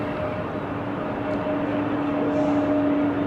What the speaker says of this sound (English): So we can probably see the main gear touchdown.